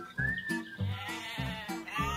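Close sheep bleats come in a quick series of four or five wavering baas, fairly quiet and alone, with no voices.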